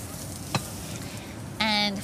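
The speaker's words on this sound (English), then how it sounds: "And you hear that sizzle." A steady sizzle of garlic frying in hot oil in a wok, with a sharp clink partway through and a tonal whine near the end.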